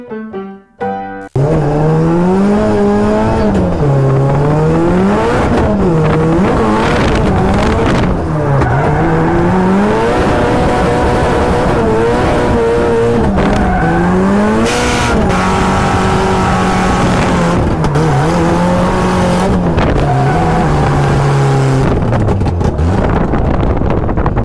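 A go-kart built from a 500+ hp drift car's running gear laps loudly and close, its engine revving up and down in repeated rising and falling sweeps, with wind buffeting the microphone throughout.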